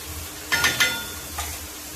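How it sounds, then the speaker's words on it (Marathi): Dried prawns roasting in a pan, a soft crackle with a couple of brief rustling scrapes from stirring, quiet and with no voices. "बघा, झिंगे भाजायला टाकलेत आपण."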